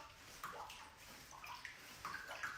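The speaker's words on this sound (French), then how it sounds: "vous allez devoir vider cet évier qui est plein d'eau" A spoon scoops water out of a full kitchen sink, giving soft splashing and sloshing in short irregular bursts, fairly quiet and close.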